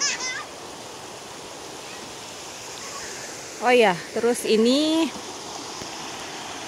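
A river beside a riverside camping ground at Puncak Dua, Bogor, flows with a steady soft rushing wash, moderately near, while people talk over it briefly in the middle.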